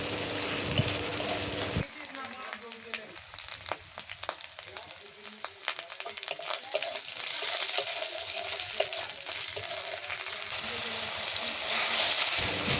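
Water poured into a coriander-cumin paste frying for a small river-fish curry, a loud hiss and sizzle that drops as the liquid hits, then bubbling and stirring scrapes continue before the sizzle rises again.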